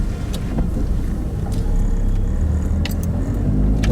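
A Toyota Altezza fitted with a converted rear fog light drives around the block, its engine and road rumble steady and close throughout, with a few faint clicks over the top and no talking.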